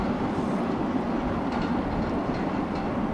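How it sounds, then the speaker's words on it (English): A CSX M560 freight train rolls past as a steady, loud broadband rumble with faint wheel clatter, continuous throughout with no talking. "The first train, this train here is the CSX"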